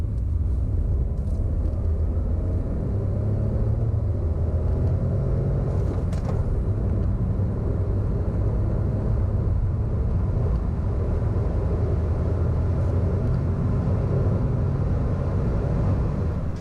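A 2013 Renault Clio with a 0.9 litre turbo engine accelerates from 30 to 70 mph, a steady loud low droning rumble of engine and road noise that holds throughout with no talking.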